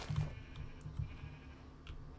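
Sheep in a Minecraft wool farm give a few faint, soft bleats over a low hum and light keyboard tapping, quiet and close.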